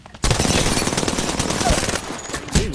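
Rapid automatic gunfire in Apex Legends, a loud sustained burst of shots lasting over two seconds, followed by a final sharp shot.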